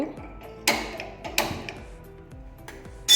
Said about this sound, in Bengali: এবারে গ্যাসটি জ্বালিয়ে নেব।